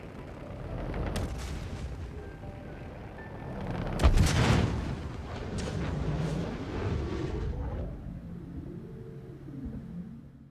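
Two size 9 torpedoes slamming into the left side of a spaceship in a game toughness test, a loud deep rumbling boom building to a sharp blast around the middle, then a fading rumble with wavering tones, no talk.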